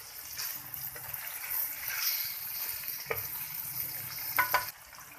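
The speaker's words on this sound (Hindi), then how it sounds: "चिकन इसके अंदर डाल दी है, इसको थोड़ा फ्राई करेंगे।" Chicken pieces fry in oil inside a karahi, a soft, moderately close crackling sizzle with a few sharper pops and spits near the end, no talking over it.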